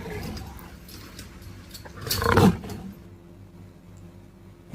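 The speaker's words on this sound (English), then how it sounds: "L for lion." A lion roars once, loud and close, swelling to a rough peak before fading, with faint background noise around it.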